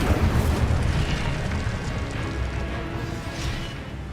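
The Incendio fire spell in Hogwarts Legacy bursts out as a loud whooshing blast of flame, strongest at the start and then fading into a rumbling roar.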